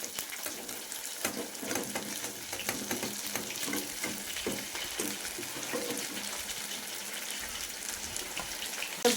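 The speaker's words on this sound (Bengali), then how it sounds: "কাঁকড়াটা কষাচ্ছি" Crabs frying in tomato spice masala in a pan, a steady close sizzle and hiss with wet stirring and scraping running throughout, no voices.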